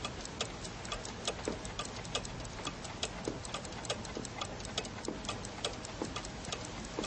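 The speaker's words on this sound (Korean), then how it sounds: "째깍째깍하는 시계 소리와 뒤섞였다" Clock ticking steadily in an even, regular rhythm, crisp and close, heard alone against a soft constant background hiss for several seconds.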